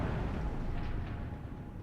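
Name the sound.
bomb explosions in the video game WARNO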